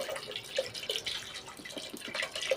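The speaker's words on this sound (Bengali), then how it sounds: "এটা সেদ্ধ হওয়ার জন্য একটু জল দিয়ে দিলাম।" Water poured into a cooking pot of meat, a faint close splashing and trickling with small drips over a few seconds, no speech.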